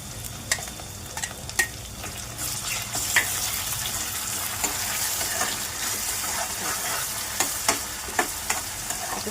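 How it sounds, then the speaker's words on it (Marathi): Tomatoes sizzling and frying in a pan over garlic and curry leaves while being stirred, a steady crackling hiss with scattered clinks and scrapes throughout, fairly close and continuous, with no talking. "छान त्याची ढवळून घ्या टॉमॅटो घातल्यानंतर"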